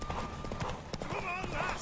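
Rapid galloping hoofbeats of a horse in The Witcher 3, close and steady over the whole short stretch, with shouting voices over the top.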